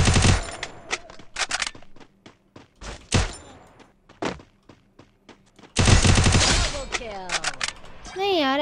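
Gunfire in the video game Free Fire, with bursts of rapid automatic shots and single loud cracks spread across the clip, plus whooshing game effects near the end and someone talking between shots.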